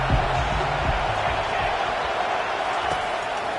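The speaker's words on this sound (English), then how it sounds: "Decibels rising as the crowd gets behind this defense on 3rd down." A football stadium crowd roars steadily as the defense lines up on third down, a loud, dense wall of cheering with no breaks.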